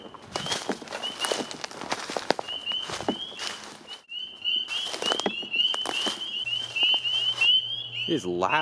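Frogs croak at night beside a pond, loud nearby calls repeating in quick bursts and overlapping with trilling, while footsteps crunch close by.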